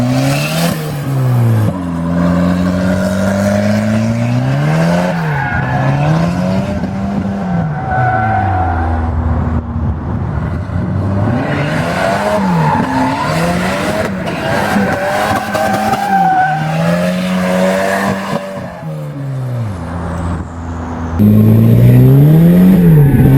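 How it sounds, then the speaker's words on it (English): A turbo wagon, the black car, drifts with its tires skidding and squealing in long, wavering tones over a loud, rising and falling engine roar, continuous and close, with a sharp revving burst near the end. "we'll see how the Black Wagon drifts"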